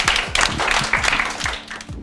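A crowd of schoolchildren claps steadily in a school setting, a dense, continuous patter of applause at close range with scattered sharper claps and no voices.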